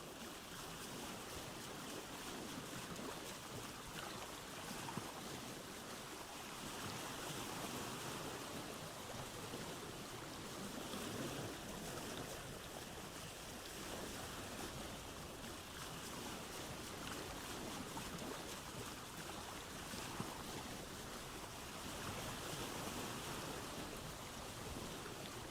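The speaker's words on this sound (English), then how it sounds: "now I know that the water sounds are coming through well too" Continuous ocean water in the video game Vintage Story, heard while exploring by sea: a steady, dense wash of lapping waves and surf that stays fairly even throughout, with no voices.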